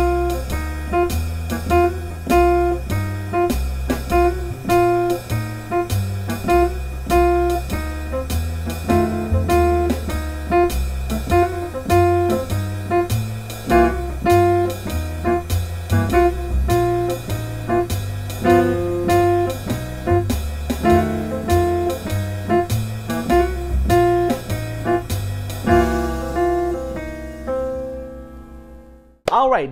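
Blues piano licks from a beginner jazz-piano lesson, played together with a backing track: steady full-band accompaniment with rhythmic chords and bass throughout, ending with a brief cutoff.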